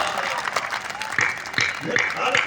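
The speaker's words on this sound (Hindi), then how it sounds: "तालियां इस बात पर।" Audience applause at a Hindi-language public talk: a steady wash of clapping throughout, with a voice speaking over it.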